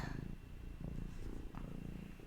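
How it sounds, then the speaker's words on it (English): A pet cat named Chantilly purrs while lying down, a steady low rumble with soft rhythmic cycles, close and quiet, with no talking over it. "Can y'all hear the cat purring?"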